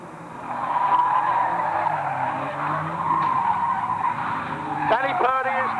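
A race car spins and skids on the track at a Fleet Old Boys non-contact race meeting, a sustained tyre screech mixed with engine noise, with a commentator talking throughout and a sharper burst near the end.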